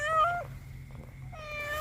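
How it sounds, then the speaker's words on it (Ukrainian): A small cat meows outdoors on a spring walk in snow, giving two drawn-out tonal cries separated by a short pause, fairly close over a steady low background rumble. "Котик вийшов на прогулянку."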